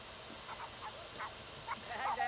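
A dog in The Sims 4 yips and barks in short, scattered bursts, fairly faint against a quiet game background with light speech-like sounds.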